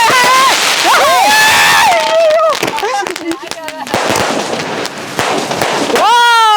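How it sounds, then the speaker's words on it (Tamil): Sky shot butterfly firecrackers whistle and whirl upward with rising and falling squeals, then burst in sharp cracks and pops at close range. Excited voices call out among the bursts. "பாத்தீங்க அப்படின்னா ஒரு பெரிய சைஸ்ல உள்ள ஸ்கை ஷாட் பட்டர்ஃப்ளை"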